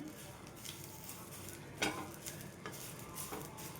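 Curry leaves and tamarind fry in an open pan with a soft steady sizzle, broken by a few light scrapes and clinks of a spoon stirring against the metal.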